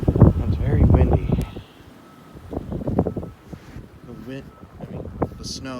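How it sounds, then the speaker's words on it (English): Strong gusting wind roars across the microphone during a snow blizzard with deep drifts, loud and buffeting, while someone talks over it in bursts. "It's very windy."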